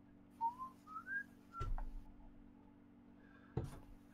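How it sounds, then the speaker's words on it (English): A person whistles a short run of rising notes, fairly faint, followed by a couple of soft clattering knocks and a quiet pause. "whistling and looking innocent."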